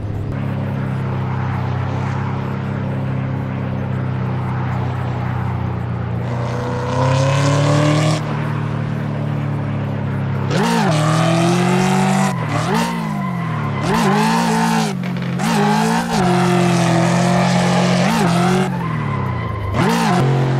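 A Ford Mustang GT in the racing game Assetto Corsa, driving a California road with traffic: a steady, loud engine drone rises through repeated gear climbs with sharp revving surges and dips, continuous and close, with no talk.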